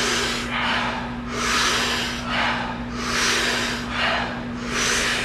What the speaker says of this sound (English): taking about 40 powerful breaths into the body